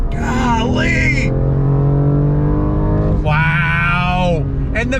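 A sports car, a BMW M2 Competition, pulls away from a stop sign and accelerates hard in second gear, its engine loud and close and rising in pitch through a shift, with a person talking over it.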